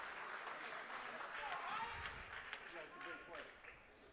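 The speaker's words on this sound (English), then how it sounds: "you can hear the wrestlers that are in the crowd not wrestling tonight, you know, cheering on their guy" Crowd noise at a college wrestling dual meet, with off-duty wrestlers in the stands cheering and clapping for a teammate, a diffuse roar of voices and scattered claps heard at a distance beneath a commentator's talk.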